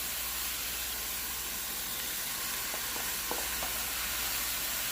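Cabbage and mixed vegetables sizzle in a hot stir-fry pan, a steady close hiss with a few faint clicks near the middle and no talking.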